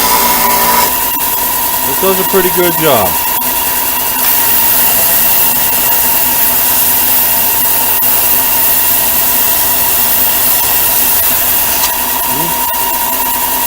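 A Ryobi belt/disc sander grinds steadily on wood with a constant motor whine, someone talking briefly over it near the start.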